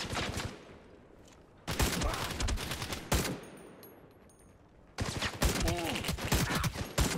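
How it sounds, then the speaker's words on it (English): Rapid gunfire in a video game comes in three loud bursts of quick shots, with short quiet gaps between them and the last burst running to the end. "I missed by like an inch on all those shots."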